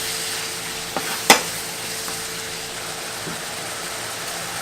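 Ground beef mixed with spices in a pan, a steady soft sizzle and scraping stir with a couple of sharp clinks of the utensil against the pan, close and without talk.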